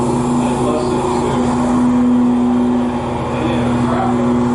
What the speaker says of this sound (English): as you can hear, the lawnmower is going